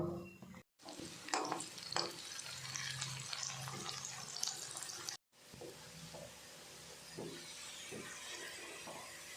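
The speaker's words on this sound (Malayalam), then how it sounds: "ഇനി നമുക്ക് ഇതിലേക്ക് കുറച്ച് ഉള്ളി താളിച്ചു കൊടുക്കാം" Onions fry in hot oil for tempering a fish curry, giving a steady broadband sizzle with scattered crackles and stirring that continues almost without pause.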